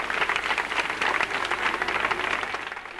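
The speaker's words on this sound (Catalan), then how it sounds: "un fort aplaudiment." An audience claps at the close of the Gelida en Viu local broadcast, a moderately loud round of applause with distinct individual claps standing out in an uneven, lively patter.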